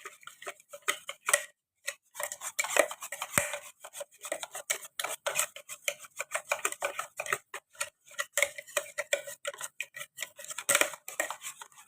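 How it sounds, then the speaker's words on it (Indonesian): Cake batter stirred by hand with a utensil instead of a mixer gives rapid, irregular clicking and scraping taps against the bowl. They run continuously and fairly close, with no talk. "Aduk semua rata, oke. Nggak usah pakai mixer."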